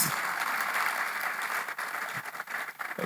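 Steady, dense crowd clapping fills a hall at a Nigerian electrical and electronics engineering conference, with a slight dip and a few uneven bursts near the end.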